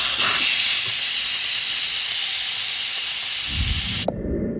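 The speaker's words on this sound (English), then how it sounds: "so the pressure cooker's run its 45 minutes, so we're just going to do a quick release on that" Steam hissing hard from a Pressure King Pro pressure cooker during a quick release after cooking beef short ribs, a loud steady rush that runs unbroken for about four seconds before cutting off sharply, followed by low rumbling handling.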